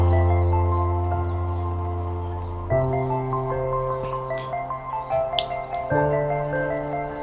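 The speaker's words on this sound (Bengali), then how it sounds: "এভাবে নেড়ে চেড়ে আমি আটা আর তেলটা ভালো করে মিক্স করে নেব" Wheat flour and oil are stirred together into a dough, giving soft, wet squishing and sticky slaps over a steady humming background; the squelches get busier toward the end.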